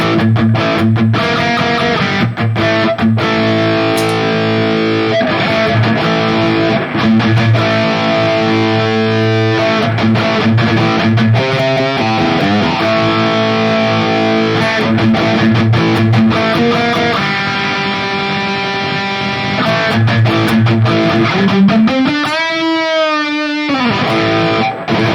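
An electric guitar plays through a Valeton GP-200 modeler preset with the distortion block removed, in a loud, continuous, still-driven riff of sustained chords that ends with a long wavering bend.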